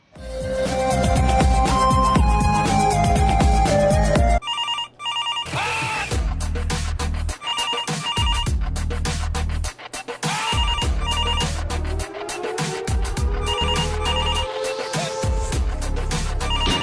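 A telephone ringtone plays loudly and up close, running as a continuous melodic ring with a brief break partway through and no talking over it.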